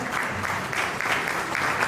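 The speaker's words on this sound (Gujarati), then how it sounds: "જોરદાર તાળીઓથી એ બાળકનું સ્વાગત કરો આપો" At a Dhodia tribal community honouring ceremony, a crowd gives a child a warm round of applause, a continuous, busy clatter of many hands that holds at an even level for two seconds, without talk.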